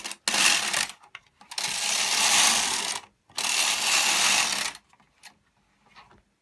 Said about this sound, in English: make sure you press down quite hard on the carriage as you're going over those cable needles